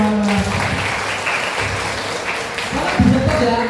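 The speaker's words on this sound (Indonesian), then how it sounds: "Tepuk tangan dulu tuh kawan-kawan." Audience applause after a group is thanked for coming to an event, a dense, steady wash of clapping with some voices and crowd noise mixed in, swelling slightly near the end.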